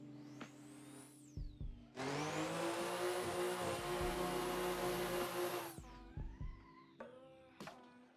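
A drift car's engine in the racing game Assetto Corsa screams at high revs for about four seconds, with shorter throttle blips and revs rising and falling before and after, loud and with no talking.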